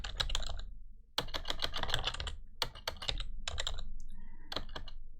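Rapid clicking keystrokes on a computer keyboard, typed in quick bursts separated by short pauses, close and clear with no voices.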